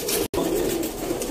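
Sadhna breed pigeons coo in a dense, continuous low warble close by, with a brief break early on.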